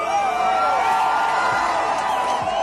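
A large crowd at a Charlie Kirk event in Utah roars and cheers steadily, a dense, loud wash of voices with occasional whoops rising above it.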